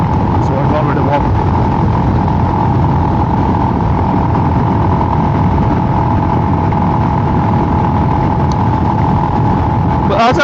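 Steady, close engine drone from a Royal Enfield Himalayan motorcycle under way, with wind rumble running continuously and loud throughout.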